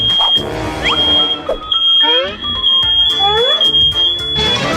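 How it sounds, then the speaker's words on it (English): A smoke detector set off by a smoke machine shrieks with a loud, steady high-pitched tone through the whole stretch, while people shout and exclaim over it close by. "I didn't know that smoke machines set off the fire alarm."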